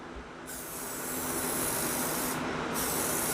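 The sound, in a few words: spray gun painting medium coat on car front lip kit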